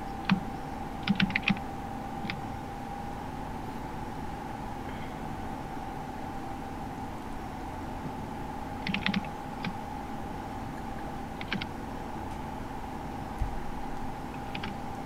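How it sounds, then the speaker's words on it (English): Keyboard keys clatter in short scattered bursts of rapid taps over a steady electrical hum, with pauses between flurries. "I'm gonna smash ferociously on my keys"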